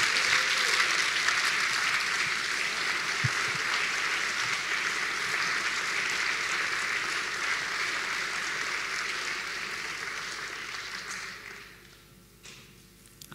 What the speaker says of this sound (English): may I have just a great thank you applause for Rob for doing all this